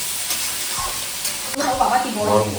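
Green peas frying in a pan are stirred, scraping utensil strokes over a steady hiss of sizzling oil, growing louder toward the end.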